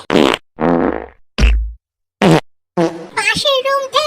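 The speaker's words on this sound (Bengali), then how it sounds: "সারা রাত আমার পাদের আওয়াজ শোন" A run of short cartoonish fart sound effects in a comedic story, several separate loud bursts, followed by high-pitched talking.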